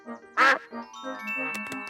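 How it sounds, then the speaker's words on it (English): A cartoon duck in a children's animated show lets out one loud, nasal quack, with light tinkly sounds and soft background tones around it. "Oh, it is Mrs. Duck."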